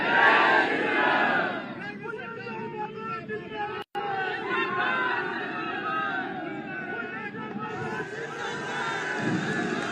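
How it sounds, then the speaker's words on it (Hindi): A huge rally crowd at a political public meeting in Nokha, Bikaner, chants Jai Shri Ram in unison, loud roaring voices over a constant babble, with a brief dropout midway. "एक बार आप मेरे साथ बोलेंगे, जय श्री राम, जय जय श्री राम"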